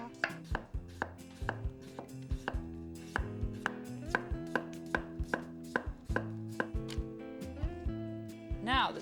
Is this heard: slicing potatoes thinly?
yes